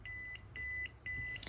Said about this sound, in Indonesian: artinya buzzernya bunyi terlalu cepat